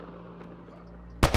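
Gunfire in the video game Mass Effect: Andromeda: two loud, sharp shots in quick succession near the end, following a quiet stretch of low game ambience.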